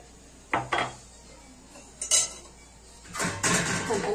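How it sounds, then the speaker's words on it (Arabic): A spoon stirs cumin and pepper into a pot of yellow lentil soup with vermicelli, giving a few separate clinks and scrapes against the pot, fairly close and with no talk. "هنقلب المكونات دي كده كلها مع بعض وهنسيبه يستوى فيهم"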